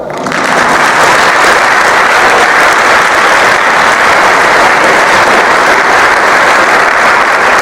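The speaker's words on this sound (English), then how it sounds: "Feel free to applaud." Loud, sustained audience applause at a university wind symphony concert at Mars Hill University, a thick, continuous roar of clapping hands that holds steady throughout.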